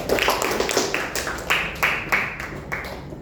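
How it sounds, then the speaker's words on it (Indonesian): A small audience at a class debate claps for both teams, giving a short run of separate, fairly distinct claps that fade out after a few seconds. "Tepuk tangan untuk kedua tim."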